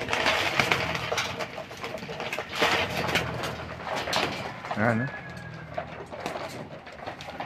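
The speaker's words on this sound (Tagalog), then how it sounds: "Nagutom itong mga ibon natin" Pigeons coo in low, soft bursts over a busy outdoor background of fluttering and shuffling, with someone talking intermittently nearby.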